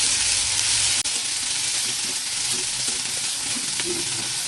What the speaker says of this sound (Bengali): মোটামুটি জিরেটা একটু ভাজা ভাজা হয়ে যাবে, তখন দিয়ে দেবো টমেটো কাটা আর কাঁচা লঙ্কা